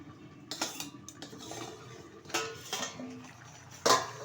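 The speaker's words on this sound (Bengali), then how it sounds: "ঢাকনাটা তুলে দিচ্ছি।" A lid lifted off a cooking pot of vegetables braising in their own juices, with a few metallic clinks and scrapes over a steady low hiss, ending in one sharper clatter.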